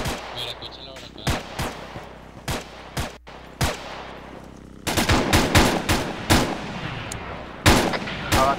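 Gunfire in the military shooter Arma 3: bursts of rifle and machine-gun shots, scattered single cracks early, then dense rapid volleys, some near and loud, others more distant, with no talk over them.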